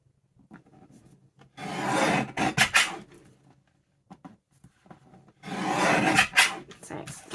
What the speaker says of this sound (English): So just trimming this down to the size of the first card.